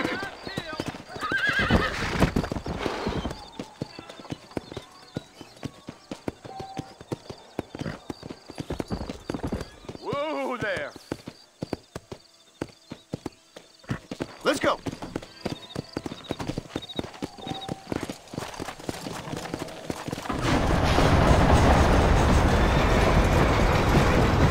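In the video game Red Dead Redemption, a horse trots and gallops with rhythmic hoofbeat clip-clops and whinnies at points. Characters talk throughout, and a louder rush of wind and hooves fills the final seconds.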